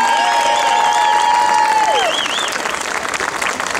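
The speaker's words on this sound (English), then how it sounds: "Let's have a round of applause, General SRAO this afternoon." A crowd at an outdoor monument rally in Woonsocket claps and cheers loudly and continuously, with a sustained whistle or tone gliding through the first two seconds.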